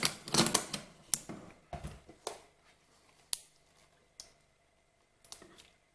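Short clicks and brief whirring buzzes from the autofocus motor of a Canon 50mm f/1.8 STM lens come in scattered bursts, close and quiet, with pauses of near silence between them.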